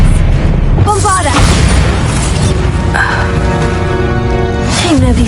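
A Bombarda blast spell explodes in a Harry Potter video game with loud booms and bursts amid dense game effects, and a voice speaks over the action.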